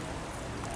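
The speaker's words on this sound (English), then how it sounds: "oh look, you can see all the rain" Steady rain pours down at night over the streets of Budapest, a dense, even hiss that fills the short stretch without a break.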